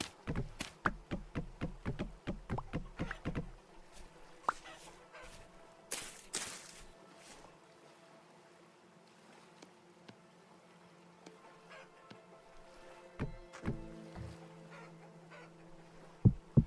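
Chickens and a rooster in the survival game Vintage Story, panicking: a burst of rapid clucks and knocks at the start, a loud squawk near six seconds, then quieter scattered clucking and another flurry late, close by.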